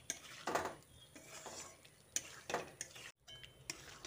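Potato and kakrol (pointed gourd) being stirred with spices and Kashmiri chili powder in a pan: quiet, intermittent scrapes and light clinks of a spoon against metal, a few sharper strokes spaced irregularly, with no talking.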